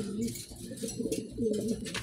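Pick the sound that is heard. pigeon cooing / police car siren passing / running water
pigeon cooing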